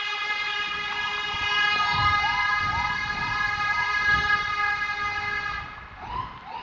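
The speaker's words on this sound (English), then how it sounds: "Got a little ambulance going on." An ambulance siren passes along a city street near a Metro line by Hermann Park, its loud, close wail steady throughout before easing off at the end.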